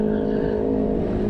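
A loud, aggressive motorcycle exhaust on a Sunday ride to Ancol, a steady close droning rumble with no voices over it.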